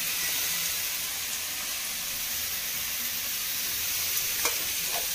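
Veg manchurian gravy cooks in a pan with a constant close hiss and sizzle. A couple of faint utensil clicks come near the end. No voices.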